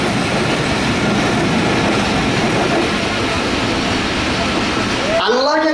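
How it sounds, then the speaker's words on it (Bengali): A train rolls past close by, a loud continuous rumble and rattle of wagons that cuts off abruptly near the end, where a voice briefly speaks. "ট্রেনটা একটু যান"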